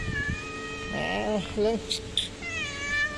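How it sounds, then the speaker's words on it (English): A big friendly cat meows a few times, close by outdoors, its rising cries mixed with a voice greeting it. "look at this cat"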